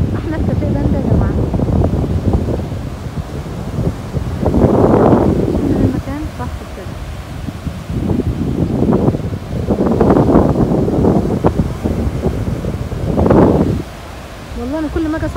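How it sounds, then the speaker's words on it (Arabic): Wind gusts on the beach in Port Said, Egypt, buffet the microphone in broad rushing bursts, with a person talking throughout under the blustery noise. "سامعين الهوا وشايفين برضه الهوا ازاي في الشمال"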